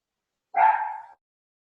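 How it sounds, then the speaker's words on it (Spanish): One of several pet dogs in a home gives a single sharp bark about half a second long, close and clear, with silence before and after. "tengo como 5 perros y si ladra uno, ladran los demás"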